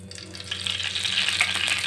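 Oil heating in a pan after peanuts were roasted for peanut chutney crackles and sizzles steadily, growing a little louder partway through, close and with no voices.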